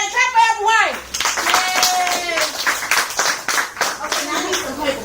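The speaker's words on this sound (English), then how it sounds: "Everybody clap for Applewhite." Students clapping in a high school math classroom, a short burst of hand claps mixed with cheering and kids talking. The voices are loud and close and sit over the clapping.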